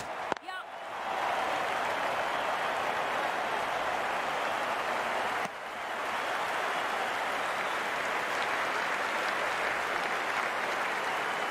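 Cricket crowd at a playoff match applauding, a steady, dense wash of clapping that carries on for about ten seconds after a brief thud, loud and even with only a slight dip midway.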